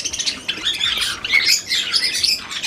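Java sparrows in a breeding setup squawk and chirp excitedly while being fed soft food, a rapid, bright flurry of overlapping calls close by with no talking.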